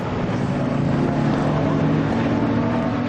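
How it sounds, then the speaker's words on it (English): Praga R4S race car accelerating hard out of a slow corner at the Assen circuit, a loud sustained engine roar with steady rising drone and wind rush throughout. "Roger Graals accelerating out of that slow corner."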